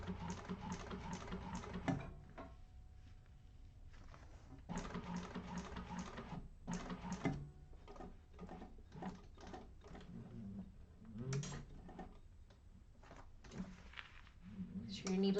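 A sewing machine top-stitches around the edge of a handbag in bursts of rapid needle chatter with short pauses between runs, while a person talks over it.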